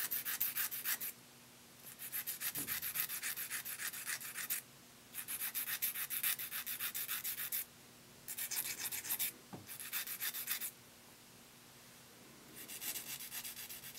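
Rhythmic scratchy sanding strokes on a small plastic Gunpla V-fin part, in repeated bursts of rapid back-and-forth rubbing separated by short pauses, close and moderately quiet.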